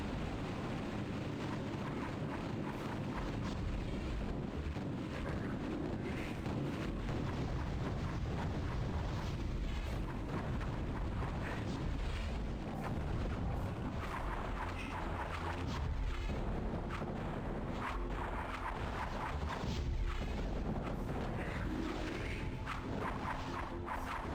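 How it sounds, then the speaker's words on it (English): Explosive blasts and whooshing projectile bursts from enemy shots in the dark-fantasy shooter Hexen, dense and continuous over rumbling game music and ambience, with no clear gaps between impacts. "Maybe his shots have got like a small explosion on them."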